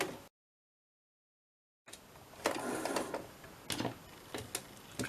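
Sewing machine running a zigzag stitch through a junk journal envelope insert, with a rattling, buzzing mechanical whir in several bursts after a brief silence, close and fairly steady.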